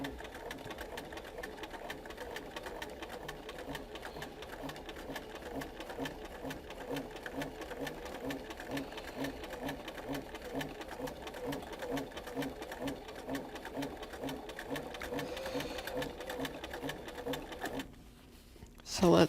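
Sewing machine quilting parallel lines through fabric with a parallel line foot, a steady rapid stitching chatter running continuously and close, then stopping near the end.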